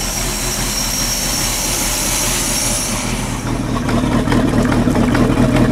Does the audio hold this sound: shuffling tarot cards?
no